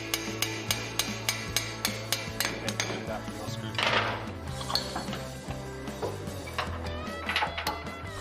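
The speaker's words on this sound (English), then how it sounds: "We're going to need a lever bar to pop the axle out of the diff." Metal tools strike and pry at a CV axle to pop it out of the differential on an NP300, with repeated sharp metallic knocks and clanks, close and fairly loud, plus a brief scraping burst midway.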